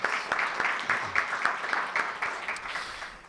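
An audience at an institute event gives a round of applause, dense overlapping claps sustained for several seconds, moderately near and steady, fading slightly toward the end.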